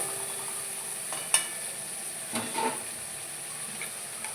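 Tomato and spice paste frying in a pan, a soft steady sizzle with a few scraping stirs of a spoon or spatula, fairly quiet and close, with no talking.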